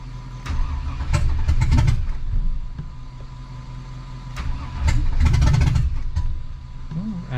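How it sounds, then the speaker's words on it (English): A Cadillac Escalade with a starting problem cranks in two long bursts, each catching and firing into a rough engine roar before dropping back to a lower running rumble, close and loud with clicks and knocks between attempts. "we're going to see if a little bit more power, a little bit longer cranking helps"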